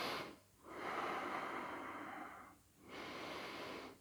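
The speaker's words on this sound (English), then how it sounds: "we're just going to take a few breaths here" Slow, steady breaths drawn in and let out during a yoga pose, close and soft, with two brief pauses between long airy exhalations and no talking.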